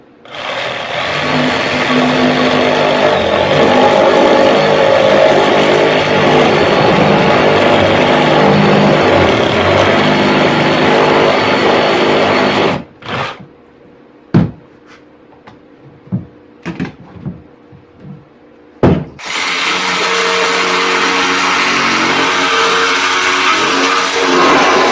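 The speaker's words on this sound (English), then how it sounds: "What if all you had was a sawzall?" A reciprocating saw cuts through raised garden bed lumber, running loud and steady for about twelve seconds, then a few short bursts and knocks, before the continuous cutting roar resumes close up.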